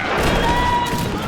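A musket volley in a video game set during the Mahdist Rebellion at Gordon's last stand: a dense, roaring wash of massed gunfire that is loud and sustained rather than a string of separate shots.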